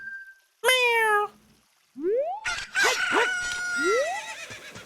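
A human voice imitates a rooster crowing, with a sharp squawk early on followed by several rising, strained crow-like calls layered over game sounds, loud and close.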